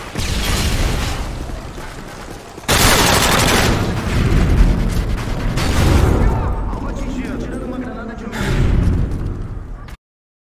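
Friendly airstrike explosions in Modern Warfare 2 land as a series of loud, booming blasts and rumbling fusillades over several seconds, with a player's voice talking over the gunfire before the sound cuts off abruptly.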